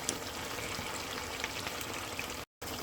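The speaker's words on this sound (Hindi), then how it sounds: "अब इसमें पिसे हुए प्याज डाल देंगे" Ground onion paste goes into chicken gravy frying in a pan, giving a steady, close, crackling sizzle with scattered pops that carries on without a break and with no talk.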